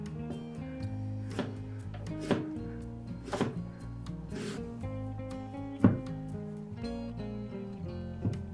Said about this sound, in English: cut the onion into 5mm slices.